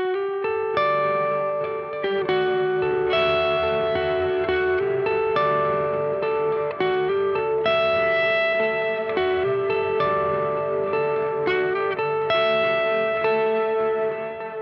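Electric guitar playing a worship-style passage through a delay pedal, sustained notes and chords repeating in echoing trails with reverb, loud and continuous with no talking.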